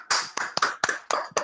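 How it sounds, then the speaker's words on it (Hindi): Several sharp, separate claps from one person or a small group welcoming a speaker to a webinar, about seven close, crisp hand claps at an uneven pace against silence. "जोरदार तालियों के साथ"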